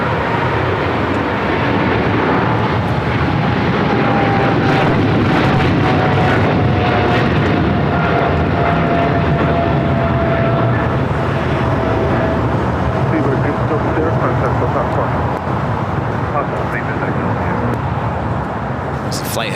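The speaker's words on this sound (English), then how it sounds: "That was British Airways Flight 282 taking off to London Heathrow on a 777-300ER" A British Airways Boeing 777-300ER takes off from LAX bound for London Heathrow, a loud, sustained jet roar with a faint gliding whine above it, steady throughout, while people talk over it.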